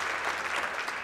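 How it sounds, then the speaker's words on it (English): An audience at a speech event applauds, a dense, steady wash of clapping from many hands that fills the whole moment without any voices rising above it. "I would probably ask another round of applause to Rabbi Shmuley for this beautiful speech."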